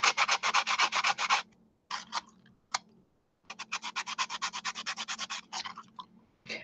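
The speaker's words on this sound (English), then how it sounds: "when you try to sand, it's better to leave the sandpaper in water for at least half an hour before you start sanding" Wet sandpaper is rubbed back and forth in quick, even strokes, a close rhythmic scratching that pauses briefly between bursts of sanding.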